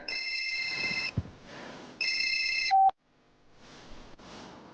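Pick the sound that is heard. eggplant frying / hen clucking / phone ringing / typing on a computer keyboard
phone ringing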